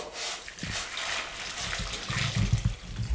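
Boiling water poured over cut potatoes dressed with vinegar for French fries, a steady splashing, gurgling stream close by that builds slightly toward the end, with no talk.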